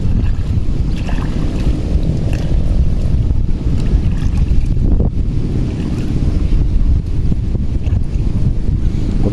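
Rain and gusting wind buffet the microphone outdoors during a fishing trip, a loud, constant low rumble with soft patter and no talk.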